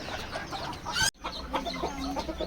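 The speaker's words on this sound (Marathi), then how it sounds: "हे बघा तुम्ही ही कोंबडी बघत असाल" Free-range village hens, one recovering from coryza, cluck repeatedly at close range, broken by a brief sharp cut, then continue clucking softly with a faint background murmur.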